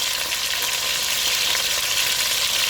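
Seasoned chicken pieces fry in a hot pan with a steady, dense sizzle that holds evenly throughout, close and fairly loud, with no voices.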